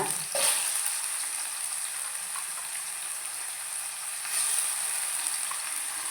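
Tomato frying in a hot pan, giving a steady, close, hissing sizzle that holds evenly throughout with a couple of brief louder crackles.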